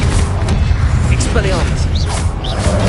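Confringo blasting spell explosions in the video game Hogwarts Legacy, loud booming bursts with whooshing magic over continuous battle noise, with voices calling out during the fight.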